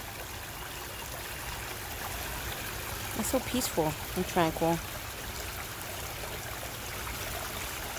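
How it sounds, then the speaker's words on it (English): Water trickles steadily at a backyard pond, a soft continuous wash heard close by, with a person speaking briefly over it midway. "The sound of rushing water always makes me feel great."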